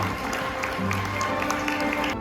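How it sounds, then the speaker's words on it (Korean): Guests at a hotel wedding ceremony applaud with a steady, even patter of many hands, sustained throughout, blended with background music and some talk. "네, 여러분 큰 박수 부탁드리겠습니다."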